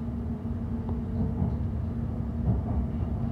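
A London Overground train running toward Watford Junction, heard as a low, steady rumble and drone from inside the carriage, with faint rattles and knocks over the constant noise and no speech.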